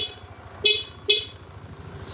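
Yamaha NMAX scooter horn giving two short, sharp beeps a half-second apart, close by, over a low idling engine rumble.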